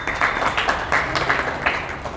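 An audience at a meeting in Rohtak, Haryana claps in rhythmic bursts, about six loud pulses of group clapping evenly spaced over two seconds.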